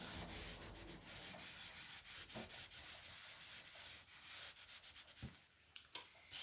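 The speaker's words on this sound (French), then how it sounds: "Mon plioir." A bone folder rubbed along folded paper to crease it while making a gift bag, giving soft continuous scraping strokes that come close and quiet, with no voice.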